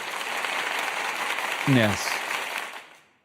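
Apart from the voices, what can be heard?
applause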